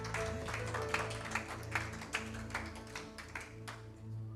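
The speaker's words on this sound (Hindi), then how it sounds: "आइए यीशु के लिए तालियां बजाएं." A church congregation in Jaipur claps steadily in rhythm for Jesus during a sermon service. Crisp, evenly spaced claps sit over a sustained musical backing.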